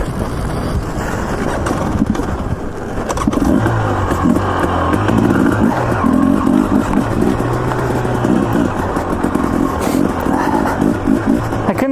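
A small dual-sport motorcycle engine runs steadily throughout on a sub-freezing descent, a continuous close, loud drone with rough low pulsing, buffeted by heavy wind noise over the microphone.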